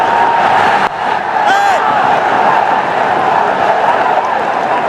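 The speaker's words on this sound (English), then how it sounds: "Let's listen to the crowd." A stadium crowd at a Bangladesh versus Pakistan T20 international cricket match roars steadily, a loud, dense wall of cheering with a brief dip early on.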